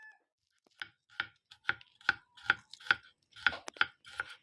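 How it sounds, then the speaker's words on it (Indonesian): Spices for oseng kikil with green chilies are chopped by hand on a cutting board, about ten sharp, evenly spaced knife strikes, close and clear with quiet gaps between them and no talking. "Bumbu kikile dirajang-rajang."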